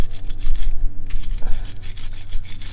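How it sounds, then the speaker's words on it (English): A wire brush scrubs oily grime off a brake pad on a Mazda Bongo, rapid rasping strokes close by in an uneven back-and-forth rhythm, loud and alone. "gunk out of it with a wire brush"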